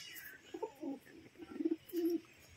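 Pet pigeons cooing in a loft, a few soft low throaty coos in short bursts, faint and close against a quiet background.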